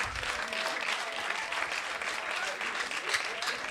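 Steady applause from an audience at a stand-up comedy show, a dense continuous patter of clapping that fills the whole moment with a voice faintly underneath.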